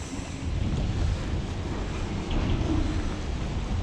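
Wind gusts at the docks, blowing over the water during squid fishing, make a loud, continuous rushing roar with buffeting rumble on the microphone and no talk.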